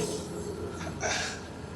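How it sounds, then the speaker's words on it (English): Train passing at a distance outdoors ahead of a fireworks show, a brief rumbling wash with a faint high squeal from the wheels, moderately quiet. "There's a train."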